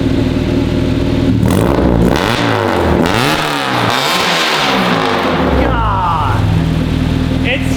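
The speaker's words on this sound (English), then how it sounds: "Let's hear the revs." A car engine with a resonator exhaust revs up repeatedly, rising and falling in pitch with a vibrant, buzzy tone, loud and close, with some talk over the revving.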